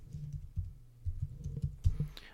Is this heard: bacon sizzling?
no